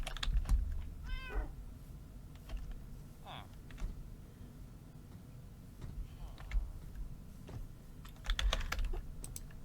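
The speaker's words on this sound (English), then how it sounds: "I keep on getting cats" Cats meow in the video game Minecraft, a couple of short rising cries partway through, mixed with steady keyboard typing and low background game noise.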